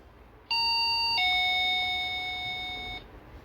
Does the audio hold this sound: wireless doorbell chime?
yes